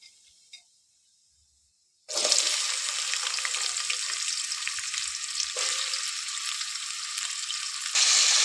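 Onions dropped into hot oil in a pan on a high flame, bursting into a loud, steady, close sizzle after a quiet start and swelling slightly near the end.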